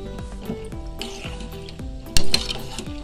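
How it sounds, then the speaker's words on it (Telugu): Peanuts and chana dal fry in hot oil for tamarind rice prasadam, a low sizzle under a spoon scraping and clinking against the pan, with a sharper clatter near the end. "పల్లీలు శనగపప్పు ఇవి రెండు కలుపుకొని మనం ఇప్పుడు వేసుకుందాము ఫ్రై చేసుకుందాము"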